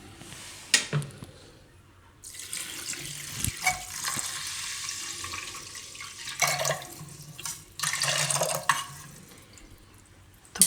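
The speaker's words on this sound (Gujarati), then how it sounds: "આમાં આપણે હવે પાણી નાખી દેવું" Water is poured from a vessel into a pot of palak makkai khichdi, spinach and corn rice, in several gushing splashes separated by quieter pauses, close and moderately loud, with no speech.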